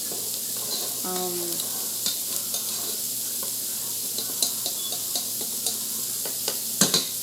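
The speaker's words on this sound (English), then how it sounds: "So now this is all cooking, simmering together, stirring in the garlic." Jambalaya simmers and sizzles softly in a pan as garlic is stirred in, a steady low frying hiss with scattered light spoon clicks and scrapes nearby, one brief voice-like tone.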